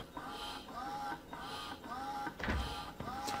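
A loud office printer running nearby, a steady mechanical whir with repeating rhythmic sweeps and feeding clicks, a sharp clunk near the end, and no talking over it.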